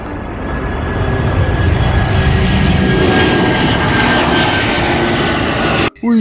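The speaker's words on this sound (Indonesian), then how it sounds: "Lihat teman-teman, di sini ada pesawat terbang." An airplane sound accompanies a toy airplane: a loud, steady engine drone held evenly throughout, breaking off abruptly just before the end.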